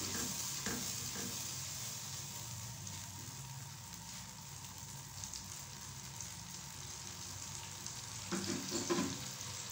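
Tomato paste cooks in a pan for aloo chicken, giving a steady dense sizzle and bubbling hiss, with soft scraping stirs early and again near the end.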